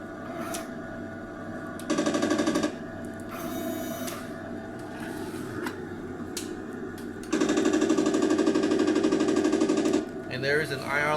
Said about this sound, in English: And this is the machine gun.